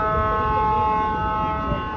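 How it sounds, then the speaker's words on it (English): An ambulance siren on a Toronto street wails steadily and loudly in a sustained tone over low traffic rumble, with no talking. "Oh, that's the ambulance. Never mind. Not a police car."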